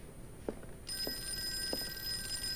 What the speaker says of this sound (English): Should we answer the phone?